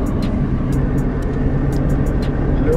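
Steady engine and road rumble inside a car travelling through an industrial area near Cherepovets, Russia, a continuous low drone with faint ticks and hiss above it, no talking.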